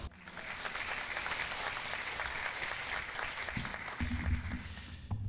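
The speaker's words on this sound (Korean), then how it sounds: "큰 박수 부탁드립니다." An audience at a Gyeonggi Province senior citizens' gathering claps steadily for several seconds, a dense rattle of applause filling the hall, with some low background noise near the end.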